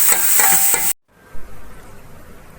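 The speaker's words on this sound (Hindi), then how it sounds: "अब इसको थोड़ी देर भून लेंगे।" Vegetables for a vegetable soup sizzle loudly as they are stirred in a hot pan, with a few scraping strokes before the sound cuts off abruptly, leaving a quiet room and a single soft clink.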